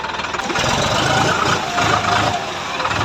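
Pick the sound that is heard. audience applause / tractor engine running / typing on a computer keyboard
tractor engine running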